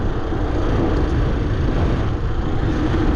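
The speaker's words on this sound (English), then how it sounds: "So part of that noise is the hub of the back wheel" Steady whirring drone from an e-bike's rear wheel hub and a BBS02 mid-drive motor clutch, 72V setup, riding outdoors; loud, continuous and unbroken, with no voices.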